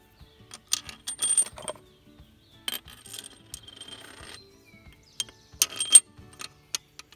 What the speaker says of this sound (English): Now we can just drop our bolts in place.